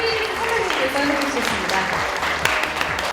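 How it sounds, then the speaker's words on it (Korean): An audience applauds an award winner at a KBS VJ contest ceremony, steady clapping under a host's amplified voice and music. "대상 작품명 마지막 주행 큰 박수 부탁드립니다."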